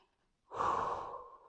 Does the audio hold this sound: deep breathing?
yes